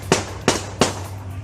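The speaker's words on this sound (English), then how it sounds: "police say the fun was interrupted by gunfire after some men in the park got into a dispute" Three sharp gunshots ring out in a park during a dispute between men, evenly spaced under half a second apart, loud and close with brief echoing tails.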